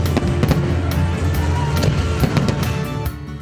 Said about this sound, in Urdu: اسلام آباد کی جینا ایونیو پر بھی آتش بازی کا مظاہرہ کیا گیا۔